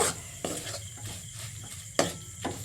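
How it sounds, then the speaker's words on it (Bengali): Ripe mango kheer filling for patishapta stirred in a pan, quiet scraping strokes with a couple of sharper knocks of the spoon against the pan, close and faint, no talking. "পাকা আমের পাটিসাপটার যে পুর তার ভালো করে নেড়ে ছেড়ে নিচ্ছি"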